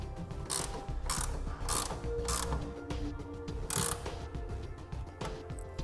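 Ratchet clicking as a 9/16 socket tightens a clamp nut while fitting a BAKFlip G2 hard tonneau cover, with close, loud bursts of rapid ratcheting repeated in short strokes and no talking.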